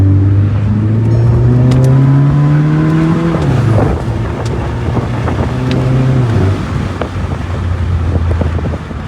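Volkswagen car dropped down two gears with a manual shift: the engine climbs in pitch, dips at a gear change, then pulls again, loud and close, with wind rumble.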